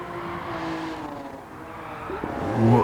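Honda NSX engine in Gran Turismo 7, steady harmonic drone holding a note under engine hum, then rising in pitch and swelling louder near the end as it revs up.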